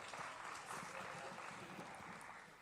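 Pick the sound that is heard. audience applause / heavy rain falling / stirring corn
audience applause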